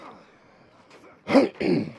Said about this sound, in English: Excuse me while I cough, I do apologise.